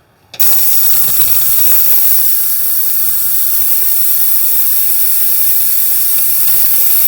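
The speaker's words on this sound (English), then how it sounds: "let's get this thing in the ultrasonic cleaner" An ultrasonic cleaner switches on and hums with a loud, steady, broadband hiss while cleaning quad carburetor parts, continuing unchanged for several seconds.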